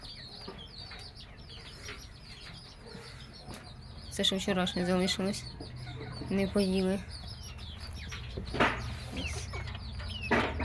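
Chickens cluck in short bursts close by in a poultry enclosure, with someone talking over them and faint birds chirping in the background.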